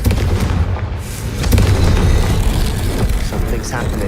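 Confringo blasting spell explosions in the Hogwarts Legacy video game, a loud, dense rumble of booming impacts that carries through without a break, layered with game sound effects.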